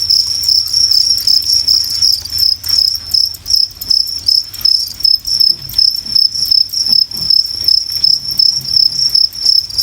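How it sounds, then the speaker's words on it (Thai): Crickets at a cricket farm, swarming out to eat freshly scattered powdered feed, give a dense, continuous high chirping close by, with faint scratchy rustling underneath and no voices. "อันนี้ก็คือแบบตอนนี้จิ้งหรีดกำลังออกมากินอาหารนะครับ"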